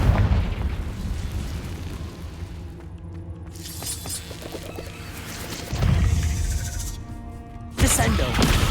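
Explosive Confringo spell blasts in Hogwarts Legacy cave combat, loud bursting booms with shattering debris at intervals amid other spell effects, with a voice calling out.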